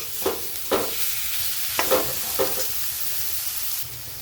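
Loud sizzling hiss from a hot pan, punctuated by a few scraping stirs of a spatula through the vegetables.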